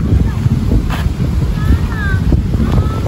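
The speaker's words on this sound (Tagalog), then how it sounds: "Lakas ng hangin." Wind blows strongly across the open shoreline of Manila Bay, a steady low rumble of gusts buffeting the microphone, with faint bird calls and a voice speaking over it.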